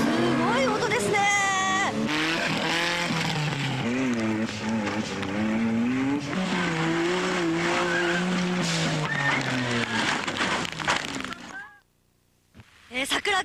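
A 4WD trial car revs hard and pulls away at a competition at the foot of Mount Fuji, its loud engine roar and tyre noise running continuously under voices before cutting off near the end.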